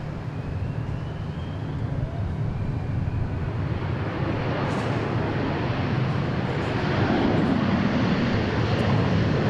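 A Boeing 737-700 jet airliner at Dallas Love Field roars loudly and steadily, with the engine noise swelling slightly toward the end.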